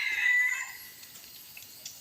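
A young fawn-coloured crossbred fighting rooster, three to four months old and under a kilo, gives the faint trailing end of a crow in the opening half-second, then only quiet background.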